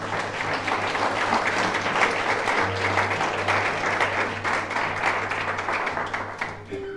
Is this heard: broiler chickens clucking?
no